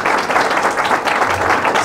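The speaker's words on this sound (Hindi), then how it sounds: "अरे खुदावंद के लिए जोरदार तालियां हो जाए।" A church congregation claps loudly and steadily, a dense burst of applause filling the room.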